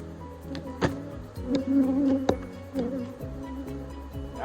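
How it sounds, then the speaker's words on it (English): Honeybees buzzing around an open hive during a beehive inspection in Florida, close, irregular buzzing with individual bees passing near, plus a few sharp taps or knocks. "the bees move, and they defend their stuff."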